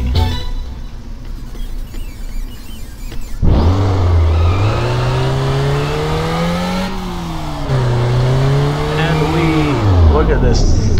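A vintage sprint car in a racing video game revs hard, its loud engine note climbing and dipping as it slides through turns, with a brief quieter stretch before it roars to life and holds a steady throttle.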